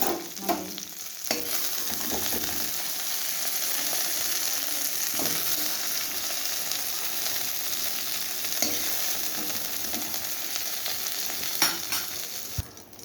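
Okra fries in oil in a kadai wok while being stirred. A continuous close sizzle runs throughout, with repeated scraping and clacking strokes of the spatula and no talk.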